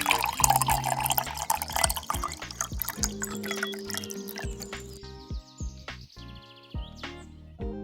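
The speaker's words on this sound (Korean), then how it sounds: "물을 부어줍니다" Warm water pours from a tap into a glass of honey, a busy liquid gush for about five seconds, then thinner drips and trickling splashes as the flow eases, close and fairly quiet.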